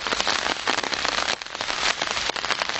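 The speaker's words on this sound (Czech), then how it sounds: "No, prší." Rain pours down outdoors during a kayaking trip, a dense continuous patter of drops striking surfaces close by, loud and steady with brief lulls, no voices.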